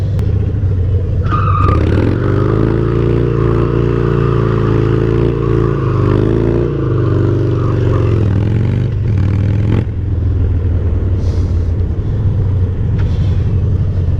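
A Harley Dyna motorcycle spins donuts, its loud engine droning and revving steadily with rising and falling throttle swells, close and continuous with no talk.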